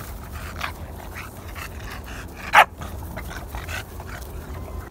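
A husky puppy gives a single brief, sharp whimper at close range over quiet background noise, with no voice over it.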